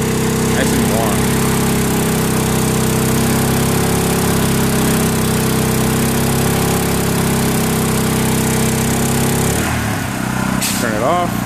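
A Honda EU2000i inverter generator running in eco mode, a loud steady engine drone with a constant hum close by, and brief voices breaking in near the end.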